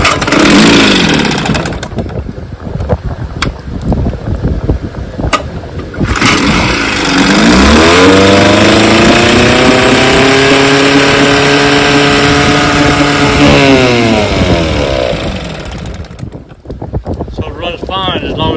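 A 1964 Evinrude 5.5 HP outboard motor runs steadily with the choke on, its engine note loud and close with a slight rise and fall in pitch. Clattering and handling noises come before it and return as it fades out at the end.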